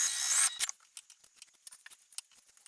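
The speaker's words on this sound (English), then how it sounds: "I will trim up the zipper tape and the pocket lining" Scissors trim zipper tape and pocket lining on a sewing project. A short burst of fabric noise comes first, then a run of light, close snips and small clicks follows.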